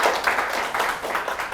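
A seminar audience gives a short round of clapping for a blog representative, with quick, close hand claps that swell and dip for a moment.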